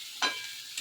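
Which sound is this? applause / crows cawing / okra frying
okra frying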